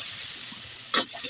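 Squid sizzles steadily while being sautéed in a pan, with a brief louder scrape or stir near the end.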